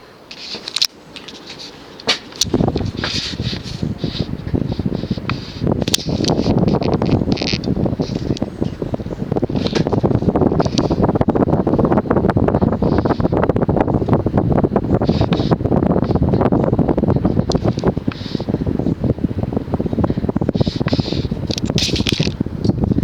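A Homestead Whisperfan IV 52-inch six-blade ceiling fan runs with a steady, rushing whoosh of moving air that buffets close to the microphone and holds constant throughout.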